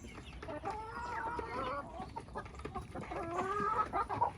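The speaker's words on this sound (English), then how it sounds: "Out here feeding the chickens." Backyard chickens cluck close by while eating feed. Several hens make overlapping, chattering clucks and murmurs in irregular bursts that grow busier toward the end.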